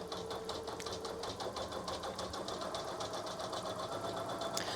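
A Janome Memory Craft 1000 embroidery machine stitches at up to 600 stitches per minute, giving a quiet, rapid mechanical whir with even ticking pulses throughout and a soft click near the end.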